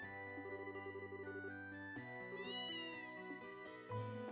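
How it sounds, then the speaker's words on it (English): A cat in the video game Trails in the Sky meows repeatedly over steady game music, the cries clear and fairly close, with a rising, wavering meow in the middle. "the cat we had to chase all over town"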